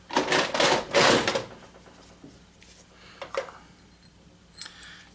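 Scissors trimming the gold-plated end off a wire pulled from a scrapped Xbox 360, a burst of close, sharp snipping and rustling up front, then a few isolated clicks and taps.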